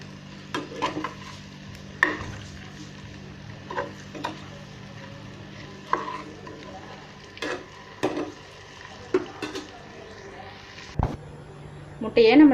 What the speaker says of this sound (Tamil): அடுப்பை சிம்மில் வச்சுட்டு எல்லா முட்டையும் மெதுவாக பரட்டி விடுங்க.